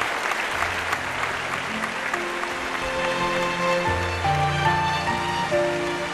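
A studio audience at a talent show applauding steadily as a contestant's brother is welcomed on stage, a dense continuous clapping with music tones underneath.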